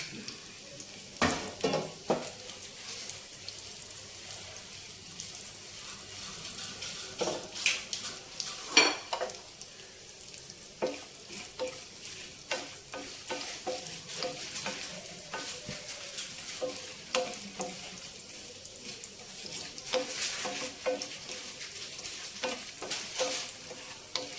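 Cashews and dried red chilies frying in a pan of oil for Telugu katte pongal, a steady low sizzle broken by repeated sharp scrapes and clinks of a spoon stirring against the pan, with no talking.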